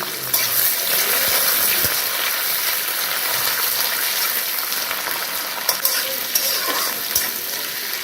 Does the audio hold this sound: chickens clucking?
no